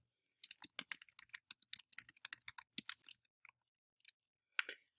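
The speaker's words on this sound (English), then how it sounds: "I'm going to click the enter button on my keyboard to get a new row." Typing on a computer keyboard, including a press of the enter key, comes through as a close run of quick, light clicks, with one sharper keystroke near the end and no voices.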